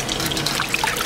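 Tap water trickles and splashes while wood ear mushrooms are rinsed at a sink, a short close burst of running water with small droplet plinks and no voices.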